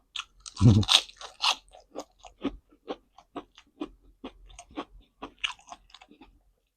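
Fresh raw vegetables eaten alongside fish soup with eggplant and sticky rice, crunched in close bites followed by a series of quieter rhythmic chewing crunches.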